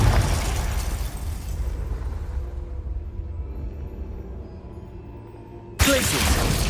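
A Confringo fire spell detonates in Hogwarts Legacy, a loud rumbling blast that swells and fades over several seconds before a second sharp burst cuts in near the end, under steady game sound.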